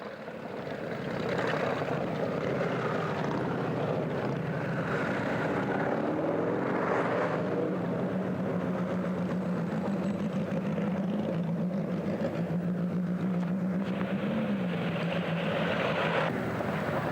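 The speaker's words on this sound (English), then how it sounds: "Just had a local motorcycle club go by us of about 30 strong." About thirty motorcycles of a local club pass along a road during a half marathon, a steady continuous engine drone with rising and falling tones that lasts throughout, moderately distant.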